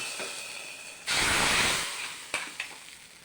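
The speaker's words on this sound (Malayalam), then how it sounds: "കടുക് താളിക്കാം." Mustard seeds are tempered in hot oil for a beetroot and green gram curry, giving a sudden close sizzling hiss that fades over a second or two, followed by a few sharp pops.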